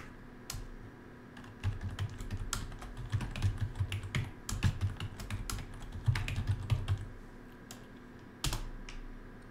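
Password being typed on a computer keyboard during an XCP-ng server setup, with brisk irregular clicking keystrokes in bursts, close and fairly quiet, no talk.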